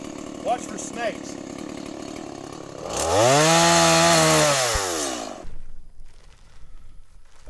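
A chainsaw cutting brush on a ranch revs up loudly for a couple of seconds, engine pitch rising and falling as it bites, then cuts out; faint voices and rustling before and after.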